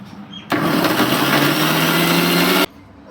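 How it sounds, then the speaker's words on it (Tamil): A kitchen mixer grinder whirs loudly for about two seconds, grinding torn bread buns into crumbs for homemade KFC-style coating, starting and stopping abruptly with a steady motor drone. "போட்டு இதையும் மிக்சியில் அரைக்கலாம்."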